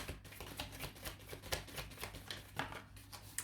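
Tarot cards riffle and slap in quick repeated bursts, a soft papery shuffling close by, with no talking.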